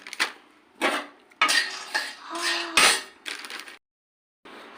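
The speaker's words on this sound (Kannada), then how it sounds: "ಬಾದಾಮಿ ಒಂದು ಇಡಿ ಅಷ್ಟು ಹಾಕ್ತಿದ್ದೀನಿ" Whole almonds are tipped onto a metal plate in several bursts, each a short rattling clatter of hard nuts against the plate, close and fairly loud, with brief pauses between pours.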